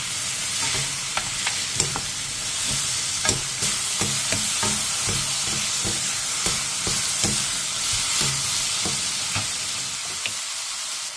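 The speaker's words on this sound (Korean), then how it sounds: "느타리버섯 한 덩이를 넣고 버섯의 숨이 죽을 때까지 볶아주세요" Zucchini and oyster mushrooms stir-fry in a pan, a steady close sizzle broken by repeated clicks and scrapes of a utensil stirring, with no talk.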